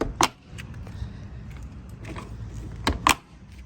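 Raising a light side ramp on a Kingston Newport trailer gives sharp metallic clanks and rattles at the start and end, with a low background rumble in between.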